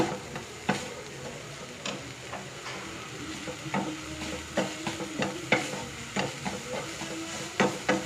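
Food being stirred and mixed in a pan while making broccoli roti: repeated scraping strokes against the pan over a soft, steady sizzle, close and clear with no talking.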